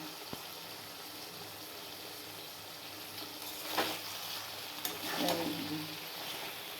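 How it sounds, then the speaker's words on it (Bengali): Mustard and poppy seed paste hits a hot frying pan with a steady sizzle and frying hiss, a couple of louder spatter bursts rising near the end. "এই সর্ষে পোস্ত বাটা দিয়ে দিলাম"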